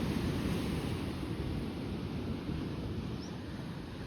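Continuous roaring wash of sea waves and surf, loud and steady, with wind buffeting the microphone.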